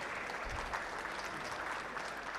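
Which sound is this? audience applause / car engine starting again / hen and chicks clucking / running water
audience applause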